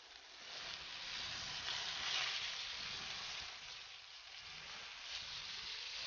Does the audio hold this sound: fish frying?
yes